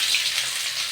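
Onions hitting hot mustard oil with cumin and dried red chillies, a dense, loud, continuous sizzle filling the whole moment.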